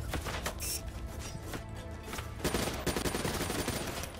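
Secondary weapon gunfire in Call of Duty Black Ops III, repeated sharp shots and short automatic bursts close up, mixed with game sounds and no talking.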